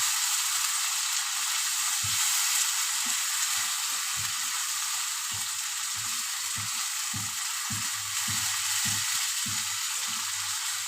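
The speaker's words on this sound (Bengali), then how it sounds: "মশলাটা আমি সব দিয়ে দিয়েছি, ভালো করে কষিয়ে নেব।" Spice masala sizzling in hot oil while being sautéed for a fish jhal curry, a steady close hiss punctuated by soft, regular scraping taps of stirring.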